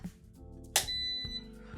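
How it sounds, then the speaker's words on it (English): An air fryer switched on gives a click followed by a single sustained, high electronic beep, close and fairly quiet, with no talking. "That beep signifies that it's ready to go, except that it's not on."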